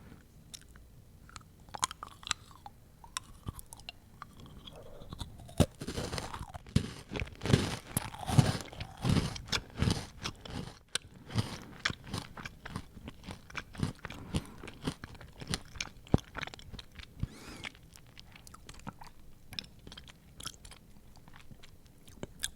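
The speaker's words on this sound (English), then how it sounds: "I can taste the yogurt and I can taste the animal cracker." Close, crisp crunching and chewing of a yogurt-coated animal cracker, a dense run of bites and crackly mastication building from soft starts to loud crunches, then gradually thinning out, with no talking.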